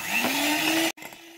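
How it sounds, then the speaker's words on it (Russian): An electric mixer on its first, lowest speed stirring condensed milk into a homemade plombir ice cream base, a close, steady motor whine that cuts off abruptly near the end. "Не взбиваем, просто на первой скорости перемешиваем."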